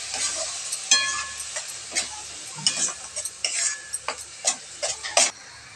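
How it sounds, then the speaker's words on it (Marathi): Tomato and beetroot paste for pav bhaji is sautéed in a pan, a spatula scraping and clacking in repeated strokes about once a second over a low steady sizzle, close and fairly loud. "बीटचं वाटण केलेलं ते टाकणार आहोत. आणि चांगलं परतून घेणार आहोत."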